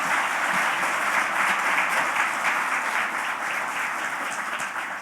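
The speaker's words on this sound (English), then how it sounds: "let's give the candidates another big round of applause" Steady, dense applause from an audience at a city council candidates forum in Rancho Mirage, sustained clapping throughout at a fairly even level without speech over it.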